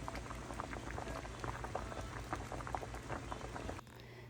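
Thai pork-offal rice porridge bubbling in a pot after long simmering, a dense soft burble of popping bubbles, fairly close and quiet, cut off abruptly near the end to a low hum.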